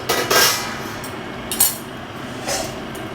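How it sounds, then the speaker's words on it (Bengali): A metal pot lid lifts off a simmering pot of prawn and amaranth-stem curry, with a few clinking knocks and brief metallic scrapes against a low background hum. "ঢাকনা খুলে এবার দেখব কতটা ঝোল আছে বা সেদ্ধ আরও কতটা হয়েছে।"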